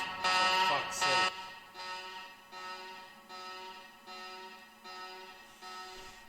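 Alarm klaxons in the Shadowrun Dragonfall video game: two loud blasts at the start, then a steady series of evenly spaced, fainter repeating buzzes, alone with no talk.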